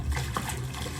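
An ocean foley sample loaded into an SP404 Mk2 sampler gives a brief, steady wash of splashing water, close and fairly dense.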